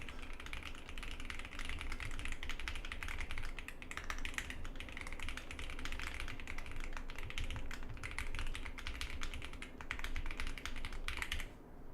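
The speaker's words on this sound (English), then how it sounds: "I failed the typing challenge because I can't type that fast" Rapid typing on a computer keyboard during a typing challenge: dense, continuous key clatter at close range, steady and loud for the whole stretch over a low background hum.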